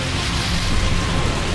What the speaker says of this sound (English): It's pouring rain in the Colosseum.